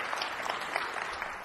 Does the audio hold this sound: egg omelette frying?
no